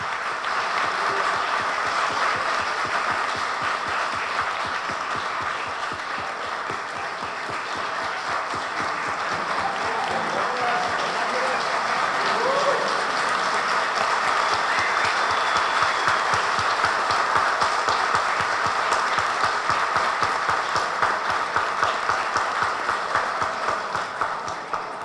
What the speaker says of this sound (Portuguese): Eu peço uma calorosa salva de palmas para o nosso prefeito